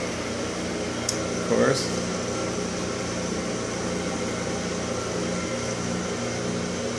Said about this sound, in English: there's a blower that pushes air through it to cool it properly so it doesn't overheat during the test